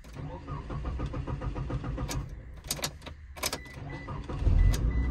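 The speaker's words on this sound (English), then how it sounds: "And let's go ahead and crank it on." A 2007 Mitsubishi Eclipse engine cranks with a rhythmic starter whir, then catches and settles into a rumbling idle, heard close by with a voice briefly in the background.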